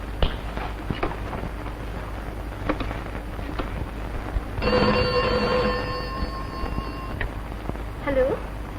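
A telephone bell rings steadily for a few seconds, fairly loud and close, breaking off abruptly, with background room noise and a brief voice afterward.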